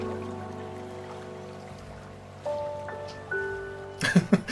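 Sustained piano tones in a sad, slow melody with rain-like noise beneath, the notes shifting upward before a few louder struck chords near the end.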